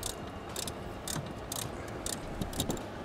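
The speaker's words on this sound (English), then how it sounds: "Now we want to use a 13mm ratchet. Just start tightening that down a little bit." A 13mm ratchet tightens a nut on a flat tow brake system install, giving a few short bursts of clicking pawl strokes spaced irregularly over a quiet background.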